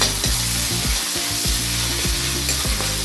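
Chopped garlic and a large piece of chopped ginger frying in a pan, a brief, dense sizzling hiss heard under prominent background music.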